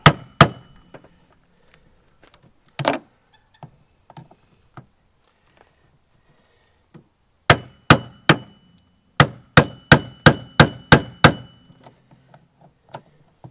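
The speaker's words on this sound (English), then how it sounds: "take your standard screwdriver, put it where the key would go, give it some taps" A standard screwdriver is hammered into a locking gas cap's key slot: sharp metallic taps at irregular intervals, then a quick run of evenly spaced hammer blows, close and loud in a quiet room.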